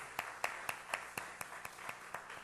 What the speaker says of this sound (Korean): 우리 함께 자리에서 일어나서 힘차게 박수하고 축복하겠습니다.